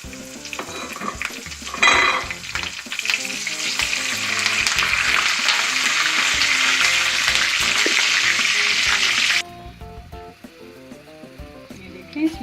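Cumin seeds and curry leaves hit hot oil with a loud burst of sizzling that settles into a steady crackling fry for several seconds, then cuts off abruptly to quiet.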